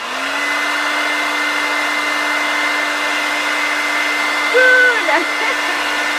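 A hair dryer runs with a steady, loud whirring hum from start to finish, while a voice briefly speaks near the end.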